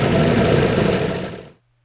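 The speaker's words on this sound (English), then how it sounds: "It is a beautiful old, very rare engine, and it just runs absolutely beautifully." A rare old Aero A-102 model engine fitted with steel rods runs loud and steady up close, with a continuous buzzing drone that cuts off abruptly near the end and leaves a faint low hum.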